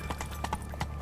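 Horse hooves clip-clopping at a steady trot in The Witcher 3: Wild Hunt, a close, regular patter of hoofbeats over a soft ambient bed with no talk.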